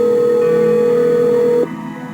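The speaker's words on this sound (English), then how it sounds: "I'm going to dial 911" A steady telephone tone from a phone being used to dial 911 in a Nancy Drew computer game plays alone for about a second and a half, then cuts off abruptly.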